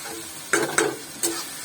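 Pumpkin pieces stirred in hot oil with turmeric and chili powder, three distinct scraping strokes of a spoon against the pan at irregular intervals, close and moderately loud over a faint background sizzle.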